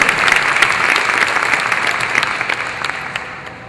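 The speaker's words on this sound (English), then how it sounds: "Certainly give a round of applause." Steady applause from a crowd at a Providence schools convocation, sustained clapping that fills the whole stretch and fades slightly toward the end.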